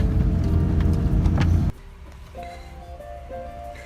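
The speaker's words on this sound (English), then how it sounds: "clearly the Land Cruiser has no problem in the snow. Just drop it in four-wheel drive and we're going." A 1987 Toyota FJ60 Land Cruiser in four-wheel drive through snow: a loud, close engine and road rumble for almost two seconds, then it drops abruptly to a quieter scene with faint tonal sounds.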